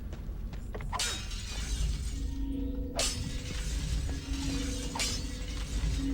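Crystals shatter with bright, glassy crashes in the video game Drakan: The Ancients' Gates, three distinct smashes about two seconds apart over a low, steady game background rumble.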